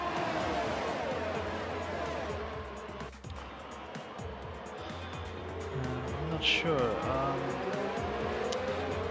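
F1 racing cars in the F1 2019 game, racing in Italy, their engines droning continuously with tire squeal and a brief skid, while someone talks over the engine noise.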